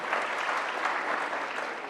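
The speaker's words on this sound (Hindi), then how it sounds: "जोरदार तालियों के साथ आप भी मेरे साथ इसमें जुड़े।" Steady, dense applause from a large audience at a formal ceremony welcoming India's election commissioners, unbroken and fairly loud throughout with no voices rising above it.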